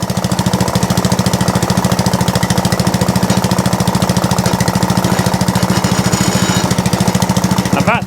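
Atco Balmoral reel mower engine running steadily close by with a loud, fast rhythmic chugging and a rattling drive noise throughout.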